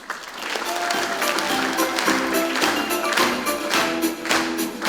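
Loud, sustained applause from a festival audience at a Komi song festival in Syktyvkar, dense clapping filling the hall steadily throughout.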